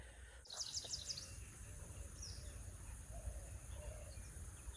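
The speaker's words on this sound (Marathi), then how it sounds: "तर इकडे पक्षी भरपूर आहेत, पोपट वगैरे भरपूर येतात ह्या साईडला" Birds, parrots among them, call from flowering trees at a cold-weather night camping spot, a quick burst of bright chirps near the start followed by faint scattered calls over a low steady background rumble.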